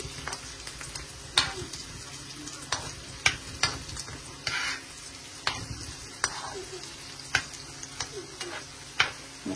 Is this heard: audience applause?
no